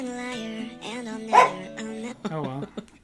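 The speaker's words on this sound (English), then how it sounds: "We got her barking" A dog barks a few times near a podcast microphone while people talk and another dog whimpers; the barks are brief and mixed with the speech.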